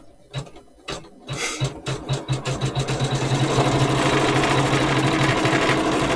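An embroidery machine quilts through a clamped quilt, starting with a few separate thumps before settling into fast, loud, rhythmic stitching that runs close and steady to the end.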